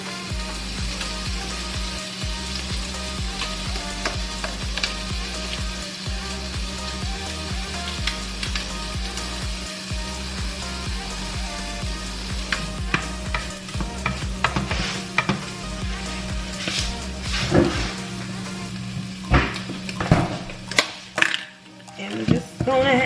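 Shrimp and crab meat sizzle steadily in a pan, a dense continuous frying hiss broken by scattered clinks and scraping stirs, with a low steady hum underneath.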